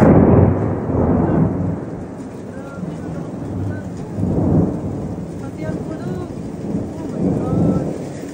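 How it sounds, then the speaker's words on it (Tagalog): Low, rolling thunder rumbles swell and fade three times over a steady wash of heavy rain during Typhoon Jenny, loud and close, with no voices on top. "Kulog at kidlat."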